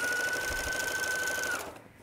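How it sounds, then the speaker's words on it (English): A home sewing machine top-stitches a shirt yoke along the shoulder seam, running in a fast steady whir close by for about a second and a half before stopping. "So we just went and top stitched that yoke on the in place along the shoulder seam"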